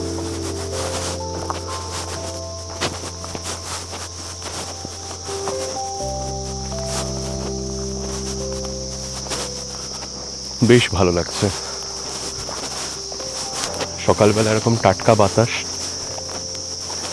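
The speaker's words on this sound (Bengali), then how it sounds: "ঝিঝি পোকার ডাক।" Crickets on a misty morning by a football ground in Lava, Kalimpong, trilling in steady overlapping tones throughout, loud and close, while someone speaks briefly.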